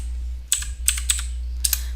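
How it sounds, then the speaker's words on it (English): A computer keyboard typed on in short bursts, several close, crisp keystrokes in small clusters over a steady low hum, with no voice. "And I'm just going to type in this number"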